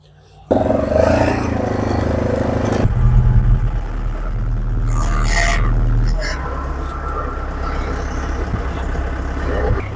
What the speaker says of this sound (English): gonna grab the tractor.